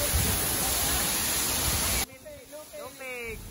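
Kawasan Falls pours in a loud, steady broadband roar for about two seconds, then cuts off abruptly, leaving a quieter background where voices can be heard.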